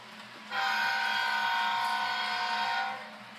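An HO-scale Intermountain Iowa Interstate ES44AC model diesel locomotive sounds a sustained, chord-like horn blast lasting a few seconds, loud and close, over a faint rhythmic motor hum.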